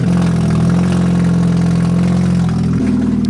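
Chevrolet Cobalt SS with a newly installed downpipe, its exhaust droning loudly and steadily at idle close by, with a slight shift in tone near the end.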